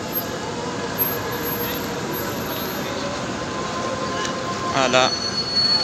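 A metro train rolls past up close in a French station, loud and steady throughout, with high metallic wheel squeals and a brief screech near the end while someone speaks briefly over it.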